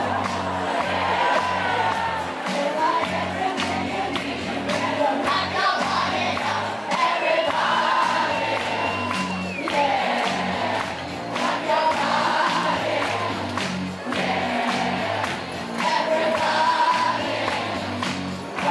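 Outdoor karaoke crowd in Prenzlauer Berg, Berlin, cheering and whooping in repeated swells over a busy murmur of voices, fairly close and lively throughout.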